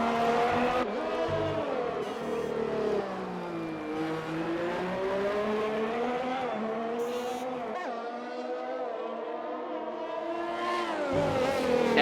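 A rallycross race car slides its rear around on a drying track, the engine droning and shifting pitch throughout, loud and continuous with short bursts of tire noise, while a commentator talks over it.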